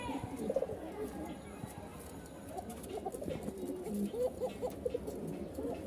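A male Rajshahi pigeon coos repeatedly beside a hen in a small loft, soft throaty calls rising and falling close by over a low background murmur.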